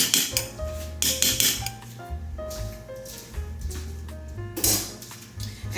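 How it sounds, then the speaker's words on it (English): Metal utensils clattering as a spoon is pulled from a drawer in a kitchen, a run of sharp clinks and rattles close by with a few louder bursts, no voices. "Okay, let me get the spoon out."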